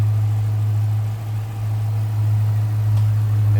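A 2014 Dodge Challenger R/T 100th Anniversary Edition with a 5.7-liter Hemi V8 idles up close, a steady, loud, low rumble with a slight dip in level partway through and no voices over it.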